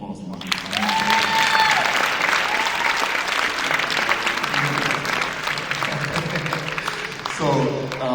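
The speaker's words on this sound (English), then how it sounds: "one more round of applause for my" Sustained crowd applause at a lifetime achievement award ceremony, loud and steady throughout with cheering mixed in and a voice speaking over it near the end.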